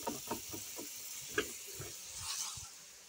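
Oil sizzles softly in a cooking pan with a steady, faint hiss, broken by a few light knocks and stirring clatters near the start.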